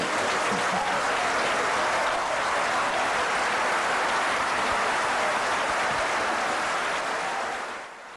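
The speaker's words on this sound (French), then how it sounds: "Des applaudissements, oui, il y en a eu dans cette salle" Dense applause from a large audience fills a hall after a president's bold speech, a steady loud wash of many hands that holds throughout before tapering slightly at the very end.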